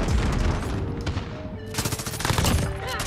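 Gold MG34 light machine gun from Modern Warfare fired in long sustained bursts, loud and close, with a brief lull mid-spray before the rattling fire resumes.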